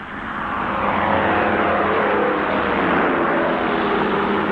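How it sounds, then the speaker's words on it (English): Aircraft engines roar as Midway island's remaining planes scramble ahead of an incoming Japanese strike wave: a loud, steady, continuous drone that swells slightly at the start and then holds. "all the island's remaining aircraft were scrambled"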